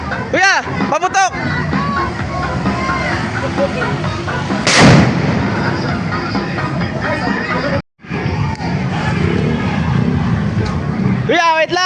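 Firecrackers keep exploding during New Year's Eve celebrations in the Philippines, with sharp close bangs over crowd noise and constant rumbling, a loud blast near the middle, then a brief gap before the popping resumes; people shout nearby.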